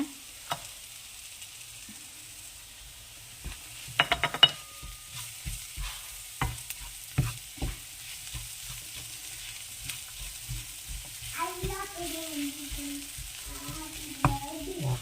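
Chopped ginger and garlic sauté in a pan with a soft continuous sizzle, punctuated by scattered clinks and scrapes of a spoon stirring, fairly close and without speech.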